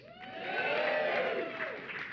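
A studio audience claps and cheers at a comedy show, a dense burst of applause that swells and holds steady, with no talking over it.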